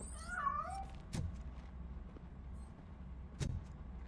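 A fleeing cat in the video game RoboCop: Rogue City lets out one short meow at the start, followed by two sharp knocks or thuds over a low steady background rumble.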